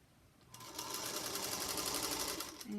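A sewing machine runs a scant quarter-inch seam on quilt-as-you-go pieces, a close, steady whirring hum of rapid stitching that starts abruptly and carries on evenly for a couple of seconds.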